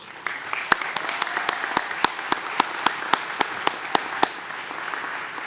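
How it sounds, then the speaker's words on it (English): Applause at a high school graduation ceremony, a steady spread of clapping marked by a regular series of sharp, close claps over a softer background. "Let's give those young ladies another round of applause"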